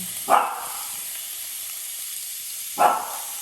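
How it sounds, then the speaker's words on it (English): Two short hissing bursts of an aerosol spray of avocado oil onto a Ninja Foodi Smart Grill XL, a couple of seconds apart, over a faint steady background hum. "Take over so I can spray some"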